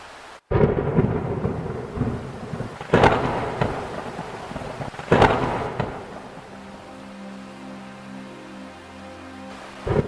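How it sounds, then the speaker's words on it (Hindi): Heavy rain pours steadily in a village setting while loud rolls of thunder crack and rumble three times, with a faint tonal background underneath and no voices. "बाहर ये बारिश कुछ ज्यादा ही तेज हो गई है।"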